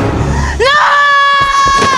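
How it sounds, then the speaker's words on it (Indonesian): A woman screams for help in the 2024 film Kingdom of the Planet of the Apes, a loud rising wail held for over a second after a brief lower cry, with rumbling film sound beneath. "Mae pun terpojok, dan berteriak meminta pertolongannya Noah"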